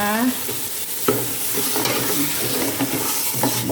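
A pot of thin coconut milk stir-fried for Thai green curry with fish, with close bubbling sizzle and several distinct scraping strokes of a utensil against the pot, no voices.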